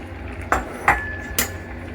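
Real meat stirred in a pot of Bolognese sauce for penne, three distinct metallic clinks of a utensil against the pot over a steady low background, spaced about half a second apart.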